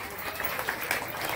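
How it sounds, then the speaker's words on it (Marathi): An audience claps at a school felicitation ceremony honouring a student who scored 86% in English-medium class 10 exams, with a brief burst of dense, steady applause. "टाळ्या वाजवा सर्वांनी."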